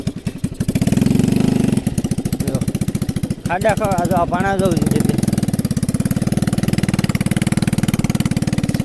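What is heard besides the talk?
overloaded mini tractor engine running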